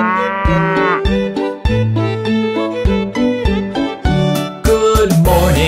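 A cow moos loudly and close in a long run of repeated, tonal lowing calls, each one rising and falling.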